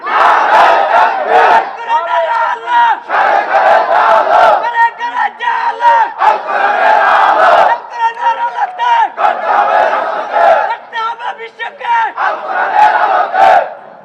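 A large crowd at an Islamic sermon chants the takbir, Allahu Akbar, in loud, repeated unison bursts that rise and fall in waves, filling the space with little pause between calls.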